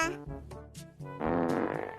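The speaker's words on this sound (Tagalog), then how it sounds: "May umutot." A fart sounds in a classroom, first as short sputtering bursts and then as one longer, louder, buzzy blast, up close and alone.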